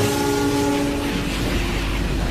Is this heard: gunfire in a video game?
no